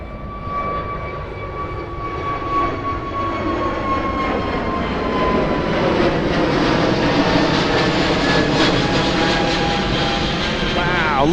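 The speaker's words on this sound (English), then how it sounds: "Frontier racing down the runway. In fact, it's in the air already." A Frontier airliner roars down the runway and lifts off at Miami International Airport, its engine noise loud and steady, swelling slightly as the jet climbs, with whining tones sliding downward over the rumble.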